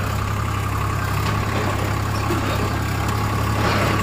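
A tractor engine runs steadily on a hilly off-road village track. It makes a loud, continuous low rumble with a constant drone and no break, and nobody speaks.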